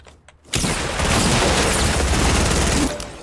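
Gunfire from a shotgun in the Fortnite battle royale game, a loud, dense burst of shots and booms that starts abruptly after a short quiet moment and keeps going for several seconds before easing off.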